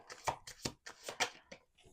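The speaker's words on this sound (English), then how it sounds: "One more shuffle." Close, quick riffling and snapping of cards in short bursts, a brief crisp shuffle with soft taps between.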